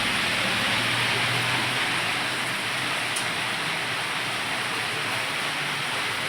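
Heavy rain pours down steadily outside a home, a dense, even hiss that holds unbroken throughout with no voices.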